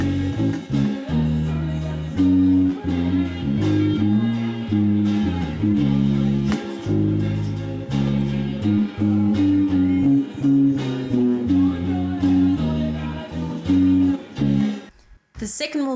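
Bass line from the second verse of a song, a melodic, moving electric bass part sitting prominently within the full band mix, steady and loud throughout before cutting off near the end.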